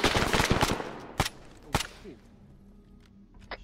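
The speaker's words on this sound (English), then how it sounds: "Return fire." Gunfire in a military video game, a rapid burst of loud close shots followed by two sharp single cracks and one fainter distant shot, with no talking.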